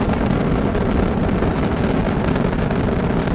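Space Shuttle Discovery's three liquid-fuel main engines during a 2006 launch ascent make a dense, steady, loud roar with a rumbling low end and no voices.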